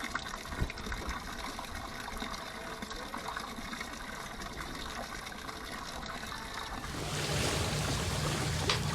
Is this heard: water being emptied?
yes